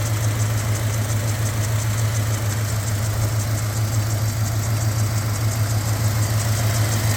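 A 1988 Jeep Grand Wagoneer engine idles steadily and loudly up close, a constant low rumble with a faint rhythmic throb and no other sounds.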